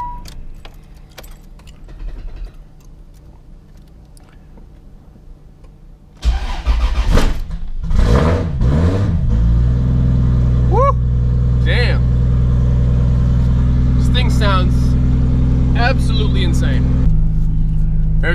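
Nissan 300ZX fitted with a self-built 600 hp 2JZ engine starting in freezing cold: keys rattle, the starter cranks, then the engine catches with a loud burst and settles into a steady, rumbling idle with a few revs, speech heard throughout.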